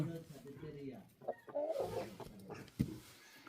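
A big rooster clucks in a village yard in rural Romania on a winter morning: a run of short, close clucks and throaty calls at moderate loudness, with a sharper peak near the end and a faint murmur of voices behind.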